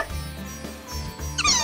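A kitten in Little Busters! gives a short, high, rising meow near the end, heard over soft game music and background sounds.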